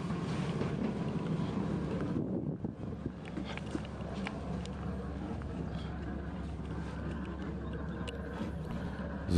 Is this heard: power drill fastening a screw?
no